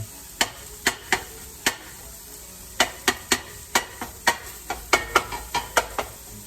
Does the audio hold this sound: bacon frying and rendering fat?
yes